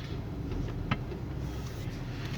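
A car pulls away slowly on a test drive around an industrial repair area after a transmission service, a steady low engine hum with faint road noise and one brief click, no talking.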